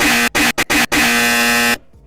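A loud incorrect-answer buzzer blares alone as a harsh, flat electronic tone. It is chopped into several quick bursts and ends on one long sustained blast that cuts off abruptly.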